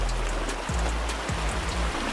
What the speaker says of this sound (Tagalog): yung tunog ng river, kasi tranquilizing siya